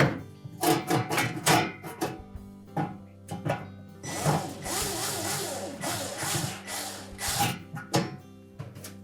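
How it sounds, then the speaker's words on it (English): Screws are tightened on a Whirlpool range convection element, with close, intermittent bursts of whirring and clicking from a driver, separated by brief pauses, in a quiet room. "And then tighten those 3 screws securely."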